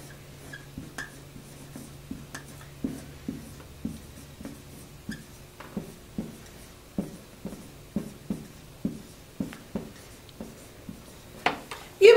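Pen scratching across a paper check, heard as a steady series of short, quiet strokes with a rhythmic pattern, close and soft in an otherwise quiet room.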